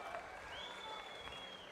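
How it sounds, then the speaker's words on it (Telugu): An audience at an official meeting applauds with a steady, moderately faint clatter of many hands that lasts throughout. "గట్టిగా చప్పట్లు కొట్టి మళ్ళీ ఒకసారి వీళ్ళు బాగా చేసిన అభినందిద్దాం."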